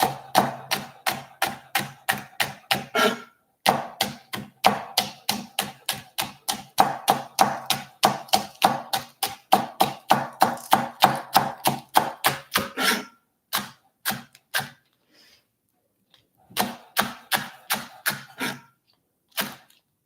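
A knife chops vegetables on a cutting board for breakfast burritos, giving fast, regular, sharp taps in long runs, broken by short pauses and a few slower strokes near the end.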